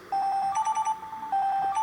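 The Jitter ringtone from an HTC Trophy phone plays a short, rapid pulsing electronic tone in quick bursts of repeated beeps, two clusters separated by a brief pause, clear and close with no speech.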